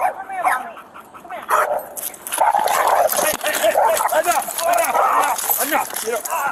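A pit bull that has bitten an officer barks and whimpers in close, rapid yelping bursts during a tense street confrontation with police, while people shout over it throughout.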